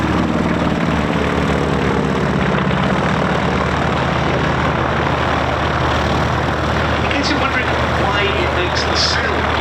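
A de Havilland Mosquito's piston engines idle at an airshow, a loud, steady, throbbing drone with a low rumble that runs continuously throughout, with voices faintly mixed in.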